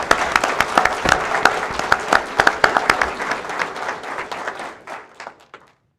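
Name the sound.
applause at school board meeting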